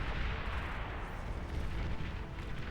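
Heavy booming shots from D-guns in the strategy game Beyond All Reason form a dense, rumbling barrage of low blasts that rolls continuously, fairly faint, with no voices.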